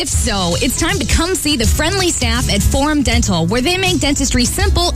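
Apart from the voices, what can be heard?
No everyday noises stand out.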